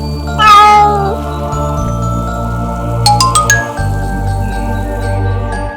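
A cartoon kitten gives a single clear, high meow near the start, close and loud over a steady backdrop of music, followed later by a few bright chime-like tinkles.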